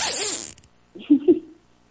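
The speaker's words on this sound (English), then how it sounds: "That was the zipper." A clothing zipper is pulled in a short, quick burst, followed by a pause and then two loud vocal yelps up close.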